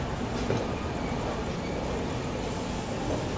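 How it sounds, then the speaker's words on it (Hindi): The Janhit Express rolls into Barauni station, a steady, dense rumble of rail wagons and wheels that holds evenly throughout, moderately loud, with no voices. "यहाँ देखिए जनहित एक्सप्रेस भी आ चुकी है बरौनी में।"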